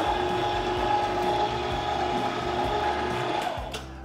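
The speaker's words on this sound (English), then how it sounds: "So I'm gonna turn the mixer on again." Electric meat mixer churning a batch of spicy chile relleno sausage, a steady mechanical whir with rhythmic ratcheting clicks from the gears, running continuously and close, no talking.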